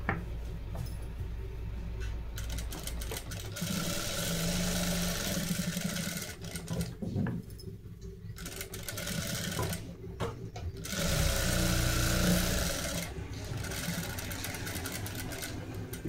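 Sewing machine stitching the back neck of a blouse, a steady motor whir in several long runs broken by short pauses, fairly close and loud with no talking.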